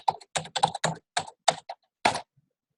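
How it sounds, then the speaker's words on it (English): A password being typed on a computer keyboard: a quick, close run of distinct keystrokes in short clusters with brief pauses, then a single final key press, alone with no talking. "I'll type that in, click sign in."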